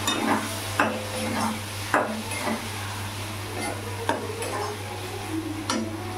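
Mustard paste with green chillies, turmeric and salt being stirred in a hot pan for a fish curry with taro stolons and prawns, a steady low sizzle broken by several sharp spoon scrapes and knocks against the metal, close and without talk.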